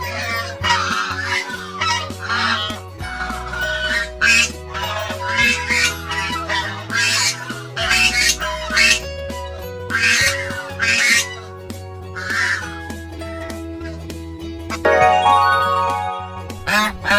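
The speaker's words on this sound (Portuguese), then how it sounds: "Pato." A duck gives repeated squawking quacks in loud, uneven bursts at close range, set against continuous background music.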